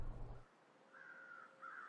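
Carrion crows caw in the video game The Long Dark, two drawn-out calls heard at a distance across a quiet, wintry backdrop after a brief low rumble.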